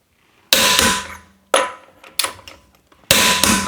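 Lug nuts on a Chevrolet Colorado or GMC Canyon being tightened to torque, heard as four loud, sharp bursts of ratcheting impact with short silent gaps between them, close and clear.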